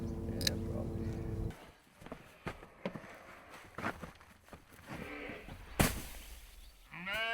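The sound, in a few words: sheep bleating at hay feeding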